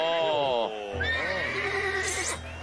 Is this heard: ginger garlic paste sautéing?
no